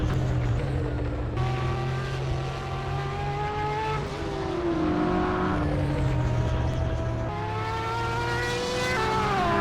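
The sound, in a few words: Porsche race car engine in sim racing video game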